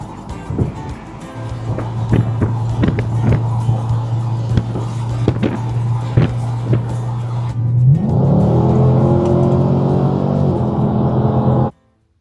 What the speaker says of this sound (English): Windows down, open road, Chevy power.